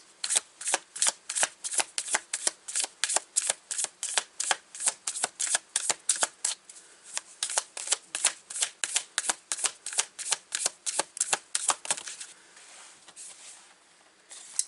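Tarot cards being shuffled by hand, a rapid run of crisp riffling bursts close up, repeating in quick regular strokes before trailing off into softer shuffling at the end.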